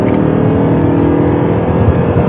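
An Audi R8 at full throttle on a race track, its engine producing a loud, steady, close-up roar that holds constant without letting up.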